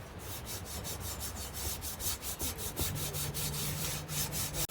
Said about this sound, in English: Remember, I'm using the dirty scrubber.